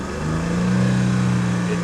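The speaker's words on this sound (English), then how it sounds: "Let me try to rev it up a little bit." A used car's engine revved up briefly while parked, a steady droning hum that swells slightly and holds before easing, close by.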